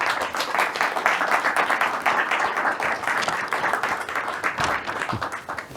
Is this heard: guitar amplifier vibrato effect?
no